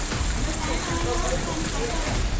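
Heavy rain pouring over flooded streets in Jammu city, a dense and steady hiss of rainfall and running floodwater that holds at the same loud level from start to finish.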